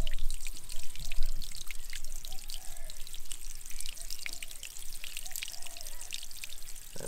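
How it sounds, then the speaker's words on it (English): Pump-driven water feature built into garden edging, its strong flow pouring and trickling steadily back into a small reservoir, a continuous close splashing with faint chirps in the background. "That pipe just comes straight back up here and pumps the water up here, and then it makes its way back to that little water reservoir."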